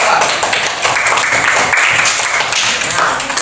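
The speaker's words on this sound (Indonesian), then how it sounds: "Tepuk tangan cepat." A group claps quickly together in a classroom lesson, a dense burst of rapid hand claps lasting a few seconds, fairly loud and close, with no talk over it.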